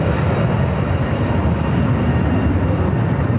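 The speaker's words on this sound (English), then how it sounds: "a DHL converted 767 making its way to 25 right." A DHL Boeing 767 converted cargo jet heading for runway 25 right at Phoenix produces a dense, continuous engine rumble, loud and unbroken for the brief span.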